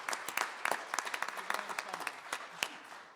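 An audience claps for a state representative at a student senate forum, a dense patter of individual hand claps at moderate distance, fairly quiet and steady throughout.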